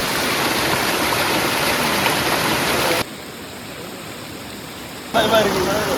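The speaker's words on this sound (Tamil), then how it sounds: "இங்க ஒரு அழகான ஓடை." A forest stream flows on a trek in Chikmagalur, a loud close broadband rush of water that drops to a softer wash midway and then swells again.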